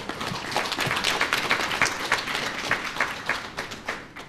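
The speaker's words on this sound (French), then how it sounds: "que je vous demande d'applaudir" An audience applauding at a launch event for an information campaign on digital technology, a dense, even burst of many people clapping that holds steady and slowly thins toward the end.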